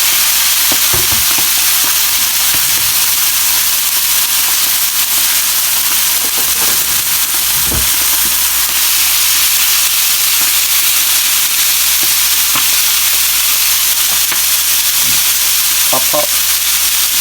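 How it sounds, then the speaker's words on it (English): Loud, continuous sizzling of chicken livers frying in a very hot pan, with a few sharp pops and crackles scattered throughout. "our pan's really hot, so we'll get a sizzle going"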